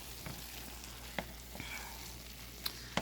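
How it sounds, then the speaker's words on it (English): Tortellini alfredo with mushrooms and peas sizzles softly in a pan while being stirred, a quiet steady frying hiss broken by a few light utensil taps. "I'm stirring with my good hand"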